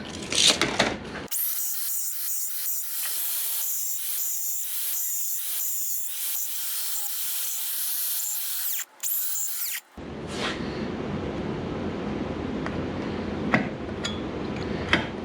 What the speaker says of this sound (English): I'm gonna grind the whole post down before I cut it